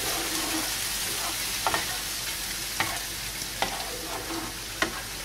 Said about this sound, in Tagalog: Ilagay na natin ngayon yung ating coconut milk. Mix lang natin ng konti.